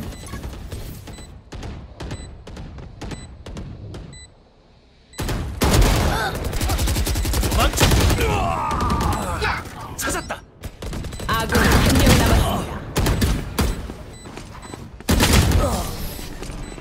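Gunfire bursts in the tactical shooter Valorant during a professional Challengers Korea match, with rapid weapon fire and sharp shots coming in dense repeated volleys, loud and up close, mixed with other game effects.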